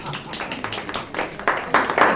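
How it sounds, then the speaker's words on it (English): Audience hand clapping during a lecture on Black communities, scattered at first and then building into louder, denser applause over about two seconds, mixed with crowd noise. "Give yourselves a hand clap."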